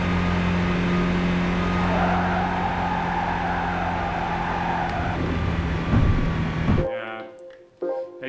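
A car engine held at full throttle in the racing game Gran Turismo 5, a loud, steady, sustained drone that suddenly drops away near the end, leaving a brief, thinner tail.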